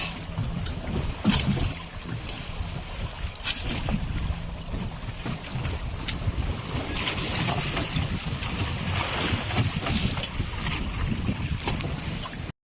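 A fishing boat's engine drones on the open sea off Phuket, a constant rushing rumble blended with wind and water noise, steady throughout with no speech.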